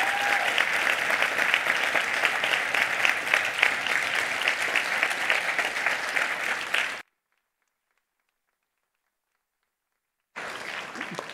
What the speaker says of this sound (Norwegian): be om en aldri så liten applaus for 20-åringen, nemlig Ringenes herre-filmene